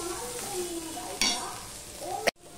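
Potatoes with bitter gourd are stirred in a dry pan before any water is added, a soft sizzle with a few scraping strokes and a sharp clink of the spoon near the end, close by.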